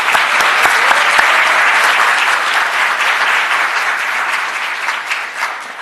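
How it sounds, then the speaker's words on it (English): Conference audience giving a round of applause, loud and sustained clapping from a large crowd, strongest at first and gradually easing off over several seconds. "And so I just want a quick round of applause for Chad, because that was awesome."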